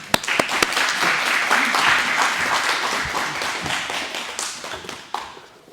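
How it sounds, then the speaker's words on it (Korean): A church congregation claps for a Thanksgiving Sunday service, starting with a few separate claps before loud, dense applause fills the room and then tapers off. "우리 하나님께 영광의 박수로 모셔보겠습니다"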